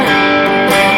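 Slide guitar interlude from a song, played as a lesson: a sustained, distorted electric guitar phrase, loud and continuous, with no voices.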